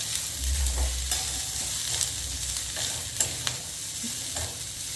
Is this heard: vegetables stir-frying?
yes